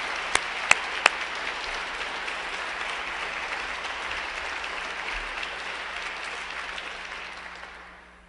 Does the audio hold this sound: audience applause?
yes